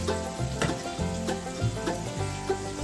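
Bacon frying in a pan as collard greens are prepared, a steady close sizzle with crackling pops, alongside tonal background music.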